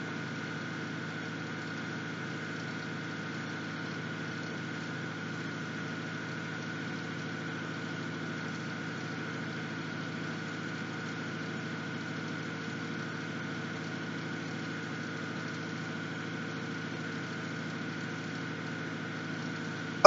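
A boat engine on the Norfolk Broads runs at low revolutions, a steady, even drone with a faint whine that holds unchanged throughout, with no voices.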